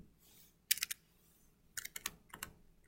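Numbers typed on a computer keyboard, three short bursts of quick, crisp key clicks separated by pauses, close and fairly quiet in an otherwise still room.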